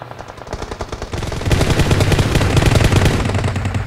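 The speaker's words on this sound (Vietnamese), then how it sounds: "các thành viên team Fuji có sấy xe đến từ vị trí của iBoy" Rapid bursts of automatic gunfire from PUBG Mobile at a 2019 esports club finals, spraying a vehicle; dense, loud, sustained firing that grows heavier partway through, with no talk.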